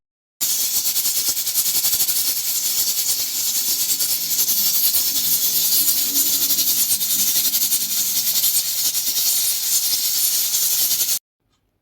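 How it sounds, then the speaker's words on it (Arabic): Steam hisses loudly and continuously from a spinning whistle valve on a pressure cooker on a lit stove, a steady, unbroken rush lasting about eleven seconds that stops abruptly. "بتبتدي الصفارة دي تلف كده، صمام الصفارة يلف، ويبتدي يطلع البخار الزايد بس عن الحلة"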